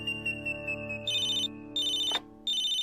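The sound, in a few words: phone ringing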